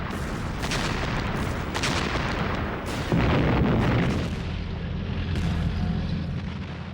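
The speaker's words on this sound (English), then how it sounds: "they blasted the building at point-blank range with heavy artillery" Heavy artillery fired at point-blank range at a building during the WW2 battle for Berlin, a dense roar of blasts and rumbling booms with sharp reports, loud and sustained throughout with no voices.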